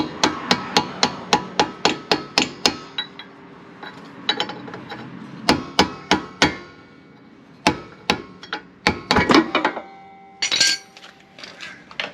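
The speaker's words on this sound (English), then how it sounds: "Grab a soft hammer because I don't want to wreck that." Sharp metallic soft-hammer blows tapping out a Toyota Supra Mk4 axle shaft in quick bursts, a rapid run of strikes, then scattered clusters of knocks with short pauses, close and loud.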